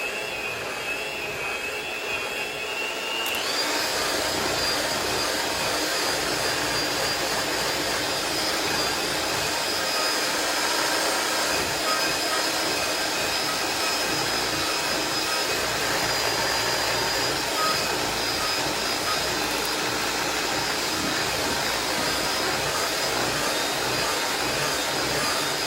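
An electric mixer beats extra-thick chocolate cream cheese pound cake batter with a loud, continuous whirring drone that steps up in speed early on and holds steady, close and alone.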